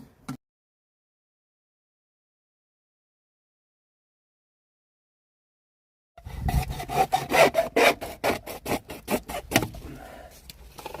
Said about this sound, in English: Quick and easy with a hacksaw.